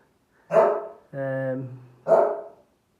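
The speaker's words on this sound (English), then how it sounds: "Dog's barking in the background." A dog barks in the background during a review of a mag drill cutting thick steel plate, giving two sharp barks spaced about a second and a half apart with a brief whine or yip between them.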